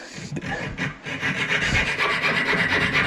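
A file rasps rapidly back and forth against the edges of a gold ring in quick, steady strokes, close and continuous for a few seconds.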